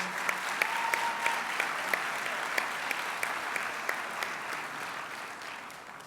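Warm, steady applause from a fraternity leadership conference audience for Senator Kamala Harris, a thick wash of many hands clapping with a few sharper individual claps standing out, holding level throughout.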